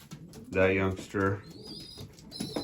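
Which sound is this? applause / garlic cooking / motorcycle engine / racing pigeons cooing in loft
racing pigeons cooing in loft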